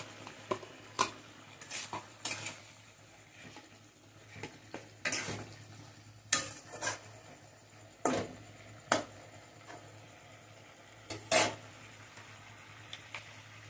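A spoon clinks and scrapes in a pan as lightly fried drumstick flowers are stirred into Bengali potato posto. Sharp metallic taps come at irregular intervals over a faint background sizzle.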